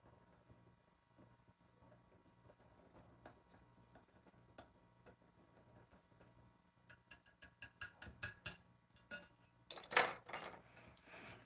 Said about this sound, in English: make sure you give it a nice whisk